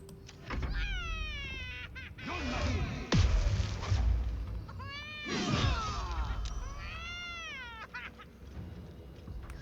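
Repeated drawn-out meows from a cat trapped inside a chest in a video game, several wavering, whiny cries in clusters, loud and near, with pauses between calls.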